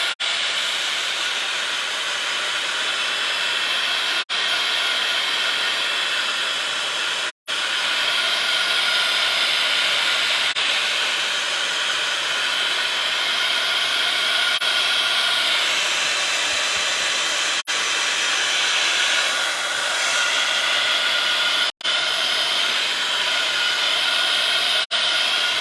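Continuous loud hiss of a heat tool blowing air to dry an art journal page, steady and close throughout with a few brief cutouts.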